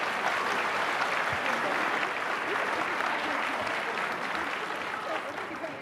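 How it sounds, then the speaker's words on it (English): A large audience applauds the 7th and 8th grade performers at a middle school winter concert, with steady, dense clapping filling the whole stretch at an even level and easing slightly toward the end. "Big round of applause for all of our performers tonight."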